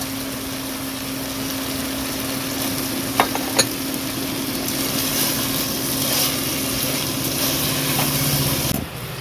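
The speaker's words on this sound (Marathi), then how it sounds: "थोडा वेळ परतून घेऊ। फ्लावर पण घालून घेऊ।" Soybean chunks and cauliflower sautéing in a hot pan for masale bhat give a steady, close, even sizzle throughout, broken by a couple of sharp clicks partway through and no talking.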